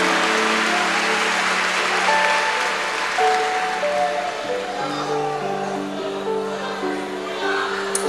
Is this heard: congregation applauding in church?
yes